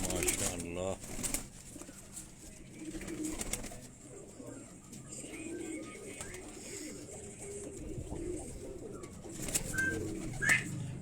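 Master Abdullah-line pigeons coo in a Quetta loft with low repeated rolling calls, while someone talks over them and a few sharp clicks and wing rustles break in near the end.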